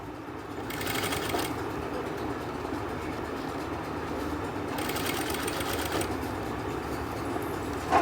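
An electric sewing machine stitching a Chinese collar, in two quick rattling bursts a few seconds apart over a constant low background hum.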